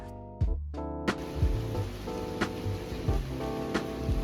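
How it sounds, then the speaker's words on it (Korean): Steady rain falls on a morning street in Taipei, Taiwan, a dense close patter with a few louder drips and taps standing out, no talking. "여행 마지막 날 비가 추적추적 내립니다"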